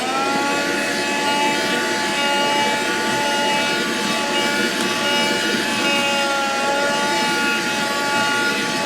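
A Black & Decker Dustbuster cordless handheld vacuum runs steadily, a loud, close, unbroken motor whine with a harsh airy rush and no pauses, without talking.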